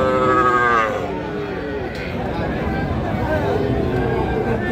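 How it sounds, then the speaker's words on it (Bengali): A bull calf at a cattle market gives a loud, close moo at the start, then lowing fades under a busy background of crowd chatter. "ষাঁড় বাচ্চা।"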